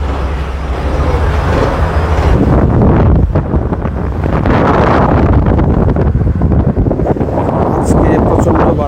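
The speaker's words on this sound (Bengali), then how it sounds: "আজকে প্রচণ্ড বাতাস এবং ঝড়ো বাতাস বলা যায়।" Strong, gusty wind buffets the microphone on the open front deck of the M Khan-7 river launch travelling from Barisal to Dhaka, a loud, continuous roar with a low engine and water rumble beneath.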